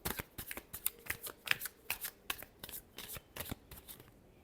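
Tarot cards are shuffled close by in a quick run of about fifteen crisp riffling flicks at an even rhythm, with no speech.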